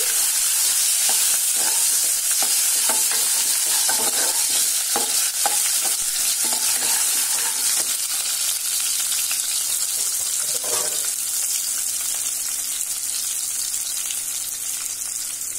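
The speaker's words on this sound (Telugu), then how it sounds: "2 పచ్చిమిరపకాయలు తరిగి పెట్టుకున్నవి, 1 ఇంచు అల్లం, ఇది కూడా బాగా సన్నగా తరుక్కోవాలి. ఇది ఎంచి వేసి బాగా వేసుకోవాలి." Finely chopped green chillies and ginger fry in a pan for tomato upma, with a loud continuous sizzle and stirring scrapes near the start that settle into an even hiss.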